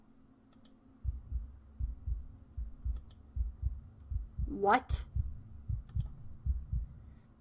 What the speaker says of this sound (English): I can still feel my heart beating